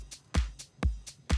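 An unprocessed main drum kit groove with no effects, a heavy kick landing roughly every half second and lighter hi-hat or snare hits between, in a steady close pattern with no voices.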